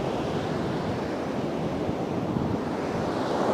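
Strong wind buffets the microphone over the steady roar of breaking surf at Batu Hiu beach in Pangandaran on a late afternoon as the tide rises, a dense, continuous wash with no voices.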